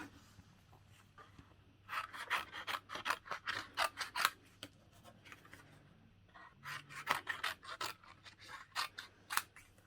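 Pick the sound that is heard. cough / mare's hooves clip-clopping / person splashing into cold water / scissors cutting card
scissors cutting card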